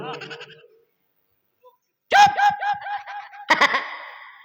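A goat bleats in three loud, close, quavering calls: a short one, then a pause, a longer wavering bleat, and a final sharp burst.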